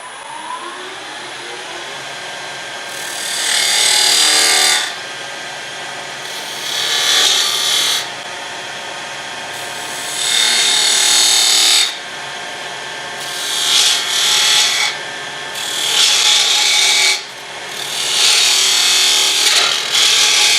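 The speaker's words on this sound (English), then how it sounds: "put a small foot on the bottom of it, and I'll do that with a detail gouge" A detail gouge cuts a small foot on a wooden lidded box spinning on a lathe. The motor whirs steadily underneath while the tool scrapes the wood in loud, repeated passes lasting a few seconds each.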